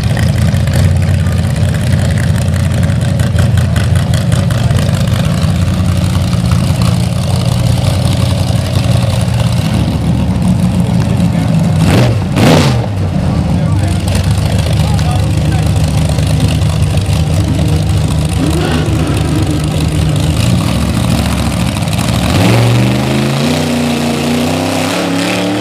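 A loud car engine runs steadily close by, idling with a dense low rumble throughout and a brief rev surge midway, ending in a falling pitch sweep near the end.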